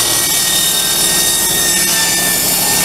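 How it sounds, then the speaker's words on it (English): A table saw trims the ends off a wooden cutting board, a loud, steady whine of the blade biting through wood that holds without a break, with no talking. "get on a table saw and cut the ends off"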